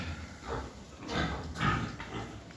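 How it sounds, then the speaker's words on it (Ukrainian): A pregnant sow eats from a feeder, giving low, rough grunts at intervals through a noisy, close barn ambience. "Свиноматка їсть."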